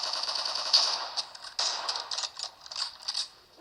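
Rapid pistol gunfire in the mobile battle royale game PUBG, played on a Realme 5i phone, cracks out in quick irregular bursts of sharp shots, fairly close and loud, with no talk over it.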